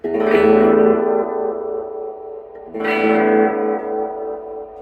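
Two open guitar strums through a PT2399-based analog delay with modulation ring out, each trailing into wobbling, repeating echoes that fade slowly; no voices.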